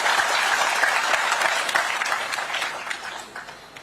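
Loud, sustained applause from an audience at an International Year of Cooperatives 2025 event in Dehradun, dense clapping that continues steadily and tapers slightly toward the end.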